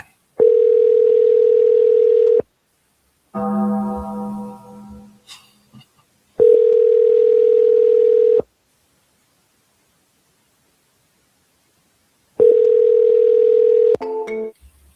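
An outgoing call to a seller rings repeatedly, three long even tones spaced by silences, with a short burst of other phone audio between the first two rings.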